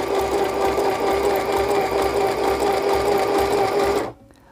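Inexpensive sewing machine running a zigzag stitch, a loud, close, continuous mechanical whir with rapid needle rhythm that stops abruptly near the end.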